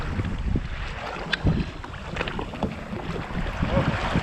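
Wind buffets the microphone while kayaking along a rocky coast in a temperate rain forest, a steady rushing roar with gusts, water sloshing and paddle splashes faintly underneath, no talk.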